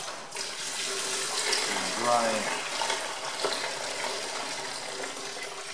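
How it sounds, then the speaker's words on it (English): Steady gushing water pours out as the radiator of a Massey Ferguson MF135 tractor is drained during restoration, loud and close throughout, with a brief spoken word partway through. "drain the dirt out of the radiator so we don't make another mess on the floor"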